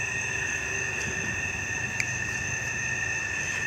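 A train rolls past near an old cemetery with a steady, loud rumble and a thin, continuous high whine from the rails, with no voices.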